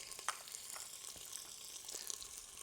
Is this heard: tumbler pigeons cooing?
no